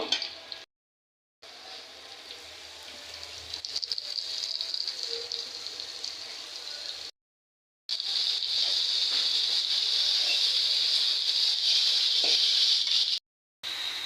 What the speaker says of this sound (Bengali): এই অবস্থায় এখন কুমড়ার ফুলগুলো দিয়ে দিব।